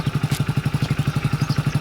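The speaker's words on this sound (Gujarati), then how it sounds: "ચાલુ કરો બાઈક." A motorcycle engine runs close by with a fast, even, thumping beat that stays steady throughout, without any talk.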